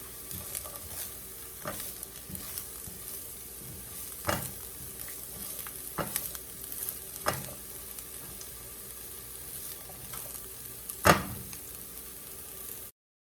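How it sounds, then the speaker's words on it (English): Onions and peppers for a vegan bacon breakfast burrito sizzle steadily in a pan, a soft continuous crackle broken by occasional sharper pops and scrapes, close and moderately quiet with no talking. "our onions and peppers are starting to caramelize nicely"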